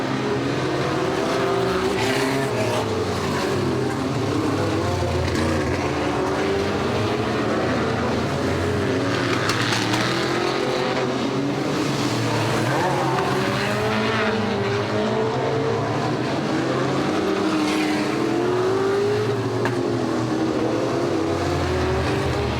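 Stock cars at a Warton Stock Car Club oval race meeting roar away after a restart, several engines revving loudly and continuously together, with rising and falling pitch as the pack accelerates and occasional tyre squeal, no speech.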